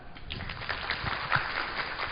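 Audience applause at the close of a cybersecurity conference talk on malware threats, a steady wash of clapping from a crowd that holds at moderate level for about two seconds with no speech over it.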